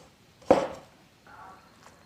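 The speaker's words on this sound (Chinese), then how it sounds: "现在打直刀，每隔3刀给它切断一下" A knife scores a pork kidney on a cutting board into a wheat-ear pattern: one sharp, close chop lands on the board, followed by a softer, brief scraping cut in an otherwise quiet room.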